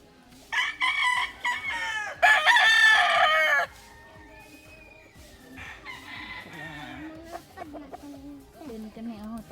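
Chickens on a chicken farm: a rooster crows loudly twice in close succession, followed by softer clucking and scattered fowl calls, with people chatting faintly in the background.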